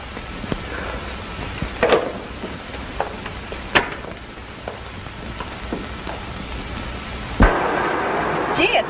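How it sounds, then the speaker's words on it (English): Steady rain falls in an outdoor night setting, a constant broadband hiss broken by scattered sharp knocks and taps, with a louder burst near the end. "Gee, it's raining."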